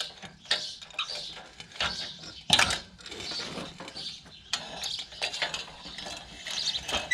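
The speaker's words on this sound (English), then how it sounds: "So very carefully now, we will slide the new one in, holding the pitman up." Metal clattering and scraping as a new knife is slid into the cutter bar of a horse-drawn mower, the pitman held up, with irregular clinks and a sharper clank near the middle, close and fairly quiet throughout.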